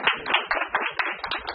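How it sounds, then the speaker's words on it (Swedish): A small audience at a research breakfast talk claps, a quick, dense patter of hand claps close by with no talking. "Bra, en applåd för Burak"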